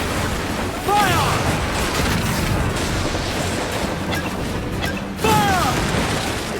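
Ship cannons from Assassin's Creed Black Flag fire in two heavy booms about four seconds apart, each followed by a sweeping whistle, over constant sea and crew noise, with shouted orders in between.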